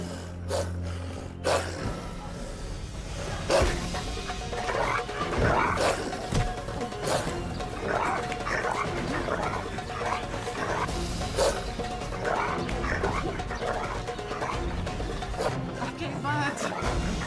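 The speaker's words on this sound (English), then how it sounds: "I was hoping those dogs would go for the donuts, but it seemed like they was too busy trying to get after me." Dogs in a video game barking and snarling repeatedly in sharp, irregular bursts over a busy background of game noise, chasing the player.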